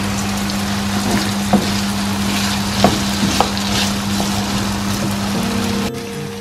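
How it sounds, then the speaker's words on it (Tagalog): A pot of potatoes and eggs cooks on a stove with a steady hiss and bubbling, broken by a few sharp clinks of utensils. No one speaks. "Lutuin ko muna guys itong patatas sa itlog."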